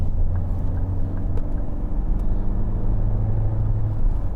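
A 2011 Ford Mondeo 2.0 TDCi Zetec estate accelerating, heard from inside as a steady low diesel engine rumble with road noise, continuous and fairly loud.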